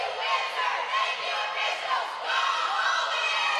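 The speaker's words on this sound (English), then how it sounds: "They're going to have a great cheer just in front of me." A roller derby team and crowd cheer at a bout between the Albany All Stars and Royal Windsor Rollergirls, a loud, bright wall of many voices shouting and whooping in swelling waves for several seconds.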